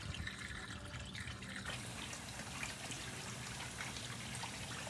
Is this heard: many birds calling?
no